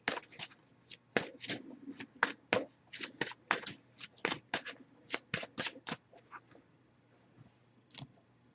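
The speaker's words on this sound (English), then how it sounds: "I'm just going to give it a few more shuffles, and then we'll cut the deck and pull a card." Rapid riffling and snapping of a deck of oracle cards being shuffled, a quick run of crisp bursts, then a pause and one last flick.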